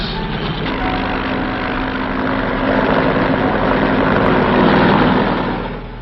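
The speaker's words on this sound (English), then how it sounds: "Fleets of helicopters lift men and artillery into the hills surrounding the base." Military helicopters lift troops and artillery into hills around the besieged base at Khe Sanh during the Vietnam War, a steady rotor and engine drone that swells slightly, heard alone with no talk.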